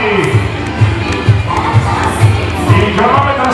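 A crowd cheers and shouts at the finish line of the Comacchio Half Marathon, a loud dense roar with rhythmic rising whoops and chanting repeating about every half second as runners arrive.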